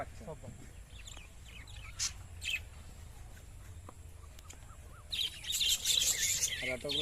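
High, thin chirps from ducklings come in scattered bursts, with a louder cluster of cheeping near the end over faint background noise.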